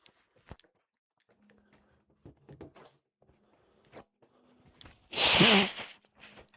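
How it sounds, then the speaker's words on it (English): A person blows their nose once in a loud, brief, forceful honk near the end, after a stretch of quiet with faint rustling and small handling knocks. "Blow my nose quick."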